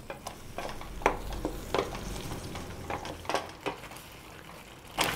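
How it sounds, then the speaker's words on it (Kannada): Tomato and coriander chutney mixture fries in oil in a pan, a soft continuous sizzle broken by repeated scraping strokes of stirring at an uneven rhythm, moderately close and fairly quiet. "ನೋಡಿ, ಇಷ್ಟು ಎಣ್ಣೆ ಚೆನ್ನಾಗಿ ಫ್ರೈ ಮಾಡ್ಕೋಬೇಕು."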